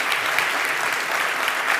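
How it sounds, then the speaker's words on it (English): Audience at a videogames summit conference in Tenerife clapping for a speaker, a dense, loud, continuous burst of applause from a crowd, with no talking over it. "Please, a big applause for Oscar Volontis."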